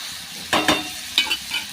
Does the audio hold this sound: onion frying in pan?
yes